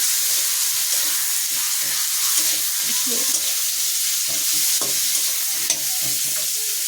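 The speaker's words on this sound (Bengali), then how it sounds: "এই যে আলুটা দিয়ে দিয়েছি একটু ভেজে নিয়েছি" Potato pieces fry in hot oil with five-spice seeds and bay leaf for a fish curry, an intense, constant hissing sizzle up close with faint stirring knocks underneath.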